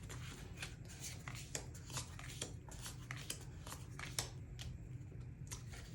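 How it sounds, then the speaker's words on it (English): Tarot cards shuffled by hand: a steady run of soft, crackly riffles and slaps, close but fairly quiet, with no voices. "let's get some tarot cards out for this connection"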